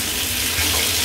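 Hot water runs steadily from a GROHE Grohtherm 1000 thermostatic mixer tap, a close, loud, continuous rushing stream with no talk.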